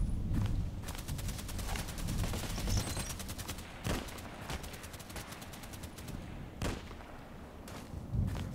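Video-game gunfire from a sniper shooter built around the HK417, with dense, rapid volleys and sharp louder single cracks at intervals, crackling over a constant rumble of battle noise.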